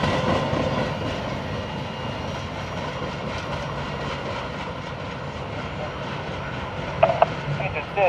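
A northbound CSX freight train rumbles past a rail junction near Lakeland, a steady, loud, broadband roar that holds for the whole stretch, with a few sharp metallic clanks near the end.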